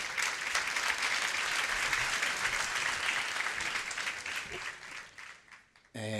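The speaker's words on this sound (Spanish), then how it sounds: "Un fuerte aplauso, por favor." Steady applause from a conference audience at an archives congress, continuous and fairly dense for several seconds before tapering off and stopping, with a speaker's voice beginning briefly at the end.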